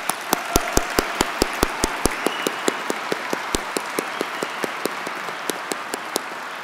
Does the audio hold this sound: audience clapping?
yes